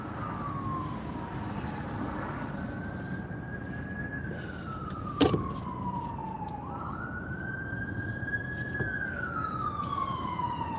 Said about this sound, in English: you can hear the ambulance, law enforcement